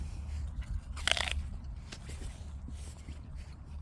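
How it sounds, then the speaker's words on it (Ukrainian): A crunchy, juicy Harmony De Lorina apple is bitten once with a sharp, loud crunch close to the microphone, followed by quieter, steady chewing. "Ну а тепер хрумкаємо."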